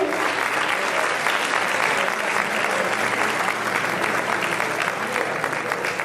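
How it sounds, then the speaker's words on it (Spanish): An audience at an economics conference applauds in a continuous, dense burst of clapping that holds steady at full strength for several seconds, close and without talk. "que le vamos a hacer el aplauso, por favor, el agradecimiento"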